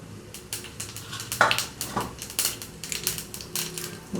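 Cumin, mustard seeds and split black gram crackle and pop in hot oil for tempering a Telugu ivy gourd and tomato chutney, sharp irregular snaps bursting over a soft sizzle.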